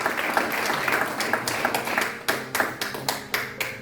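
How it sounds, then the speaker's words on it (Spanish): A church congregation applauds during a Sunday service, a dense wash of many hands clapping with a few sharper individual claps standing out near the end. "Dale el aplauso que es digno"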